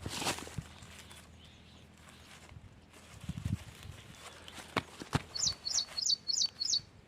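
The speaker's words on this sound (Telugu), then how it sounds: "పక్షులు ఉన్నాయి అరుస్తూ ఉన్నాయి" Small birds chirp among jujube fruit trees outdoors, with quiet scattered calls at first and then a run of five short, bright tweets near the end against a soft rural background.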